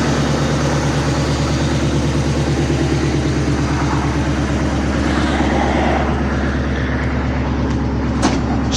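A 1969 Ford F100 pickup fitted with glass pack exhaust runs near the microphone, a loud, steady idle with a deep, even pulsing rumble.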